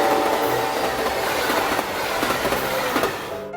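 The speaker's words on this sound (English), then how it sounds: "this portion of the Amtrak Michigan Line features only one regular freight train, being NS B25" Norfolk Southern freight train B25, led by a high hood GP38-2 locomotive, rolls past on the Michigan Line, loud and close with rhythmic wheel clatter and faint squeal over a steady rumble.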